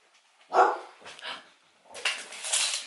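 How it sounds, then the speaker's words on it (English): A dog barks a few times in quick, uneven bursts, fairly close, with short yelping tones and brief pauses between barks. "he's just barking at the UPS man"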